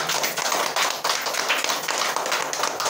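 A congregation at a Friday worship service claps in a steady, rhythmic beat, each burst sharp and close, filling the space for about three seconds without speech.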